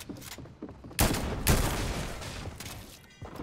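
An auto shotgun fires from the hip in a video game, a quick burst of loud, punchy blasts with booming low ends, each crack close together and then fading.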